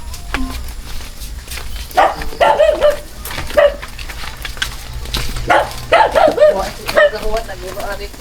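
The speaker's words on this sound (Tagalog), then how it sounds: "May aso. Aso na yan, di ba?" A dog barks and yips several times at moderate distance, mixed with whimpers and background noise in an outdoor setting.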